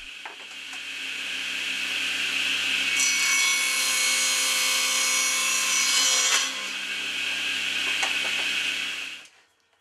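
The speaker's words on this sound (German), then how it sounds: "Die Mittelplatte wird aus einem Stück Multiplexplatte gefertigt, die zunächst in eine achteckige Form gebracht wird." A power saw cuts a multiplex plywood board into an octagonal shape in a workshop, a loud, steady whining buzz that rises sharply mid-cut, then drops and stops at the end.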